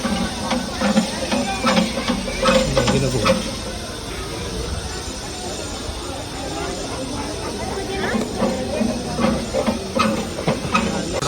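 A train rumbles and hisses steadily nearby, with a voice talking over it throughout.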